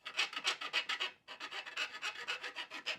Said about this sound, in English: filing it down,